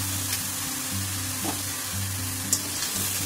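Spice paste for a Bengali cauliflower roast sizzling steadily in a hot pan, a continuous bright frying hiss with a low hum beneath and a few soft clicks of stirring.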